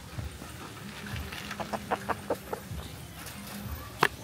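A pet chicken clucks close by in a series of short, rhythmic clucks with a louder squawk near the end, faint background noise underneath.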